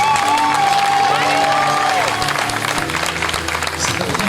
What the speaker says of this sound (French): Vraiment un tonnerre d'applaudissements s'il vous plaît.